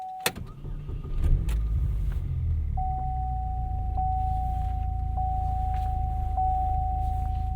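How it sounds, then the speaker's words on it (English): Steady low engine rumble and road noise inside a turbocharged 2008 Chevrolet Cobalt SS while driving, with a sharp knock near the start and a faint repeating high tone running through the cabin. "Definitely a lot of noises with this car, in a good way."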